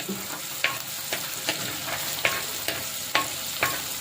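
Ingredients sauté in hot oil for a homestyle mackerel fish curry, a steady sizzle broken by regular spatula knocks against the pan about every half second, close and fairly loud, with no voices.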